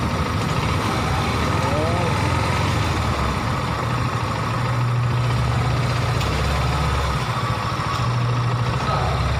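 A Rouser NS150 motorcycle engine idles in a repair shop, a steady low rumble running throughout, with people talking nearby over it.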